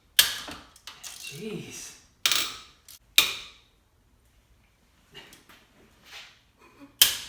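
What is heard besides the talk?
ratchet wrench turning a stuck bolt on a Mustang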